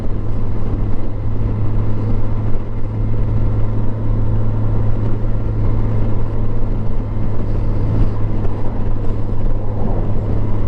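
A 2007 Yamaha FJR motorcycle with a replacement engine drones steadily under light throttle while riding, a continuous loud low engine hum mixed with wind rush and no talk.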